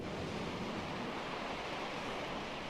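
Surging ocean waves used as a sound effect in a spoken children's story, a steady broadband wash of surf rolling on without a break and with no voices.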